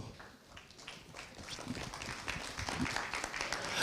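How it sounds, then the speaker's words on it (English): A conference audience applauding a panel, a broad wash of many hands clapping that builds slightly in strength, fairly quiet and distant, with no talk over it. "let's give them a huge round of applause"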